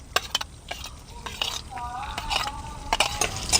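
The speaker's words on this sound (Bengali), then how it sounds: "এখানে আদা আর রসুনটাকে একটু হালকা করে ভেজে নেব।" Chopped ginger and garlic fry in hot oil in a pan, a steady close sizzle broken by clinking, scraping stirs of a utensil against the metal.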